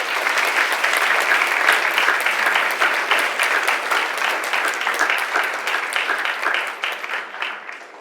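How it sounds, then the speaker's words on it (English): An audience at a Don Bosco Higher Secondary School assembly in Panjim, Goa, applauds for a UPSC club group, a dense, steady wash of clapping that stays loud and gradually thins toward the end. "teacher Reshma, I want you to give a clap for the group."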